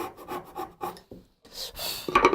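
A hand saw rasps diagonally through wood while cutting a Korean miter joint, short close strokes, several quick pulls followed by a longer, brighter cutting stroke.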